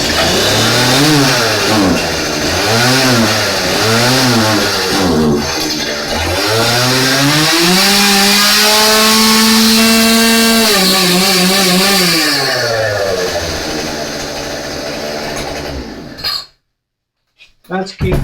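A small gasoline engine starts and runs steadily after a repair check, its pitch rising and falling with throttle blips before it suddenly cuts out near the end.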